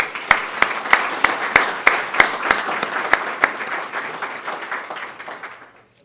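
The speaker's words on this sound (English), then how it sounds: "Let's give them a round of applause." Audience applause fills a luncheon room, steady clapping from many hands with a few sharp louder claps standing out, fading away toward the end.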